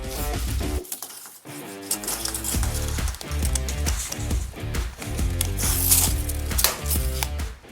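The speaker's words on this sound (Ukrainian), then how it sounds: "Давайте подивимось, що буде, якщо її розмотати навіть за лінію стоп." A steel tape measure with no auto-stop is pulled out past its stop line, giving a loud, continuous ratcheting clatter of the spring mechanism with brief pauses and rhythmic mechanical rattles throughout.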